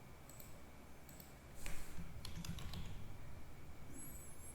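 Typing on a computer keyboard while entering data into a spreadsheet: quiet, irregular key clicks in short bursts over a faint background hum, heard alone without talk.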